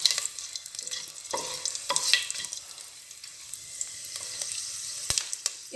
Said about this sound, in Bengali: শুকনো লঙ্কা ও 5 ফোড়ন দিয়ে ভালোভাবে নাড়িয়ে চাড়িয়ে